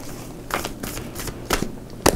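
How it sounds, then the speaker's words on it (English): Tarot cards shuffled by hand in quick riffling bursts, four or five close papery flutters separated by brief pauses, loud and near with no talk. "2 more shuffles, please."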